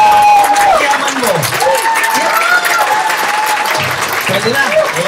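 Loud applause from a large seated audience at a corporate event, dense clapping filling the whole stretch with a few voices rising through it.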